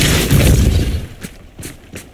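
The Depulso spell is cast in Hogwarts Legacy, a loud booming blast with a rushing burst that fades, followed by a few softer thuds and pops.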